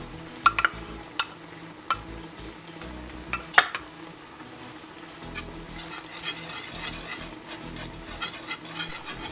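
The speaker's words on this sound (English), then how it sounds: "now add in 1 cup of ricotta cheese and whisk it well" Ricotta cheese is whisked into a bechamel sauce, with soft rhythmic scraping and several sharp metallic clinks of whisk against bowl or pan, fairly quiet and without voices.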